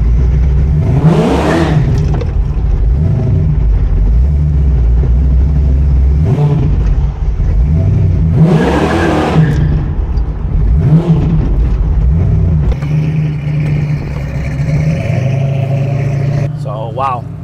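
A 1967 Camaro RS with a 671 blower on Toyo drag racing tires revs and accelerates hard, spinning the new tires, a loud continuous engine roar with repeated surges, heard from inside during a ride with people talking over it.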